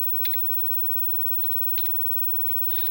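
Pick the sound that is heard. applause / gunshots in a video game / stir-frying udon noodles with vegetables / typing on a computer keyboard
typing on a computer keyboard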